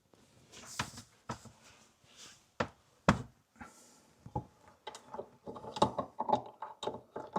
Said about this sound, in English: Now we're going to get our crescent wrench back out and we're going to go ahead and snug those up.